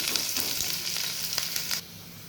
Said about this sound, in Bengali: তেলটা গরম হয়ে গেছে, কাটানো পেঁয়াজ লঙ্কাগুলো দিয়ে দিব।